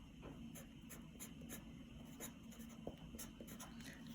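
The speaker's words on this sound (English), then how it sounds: "I'm going to write my name." A name is handwritten with a pen on paper. The strokes come as faint, short scratchy bursts in an irregular rhythm over a low room hum, close up, with no talk.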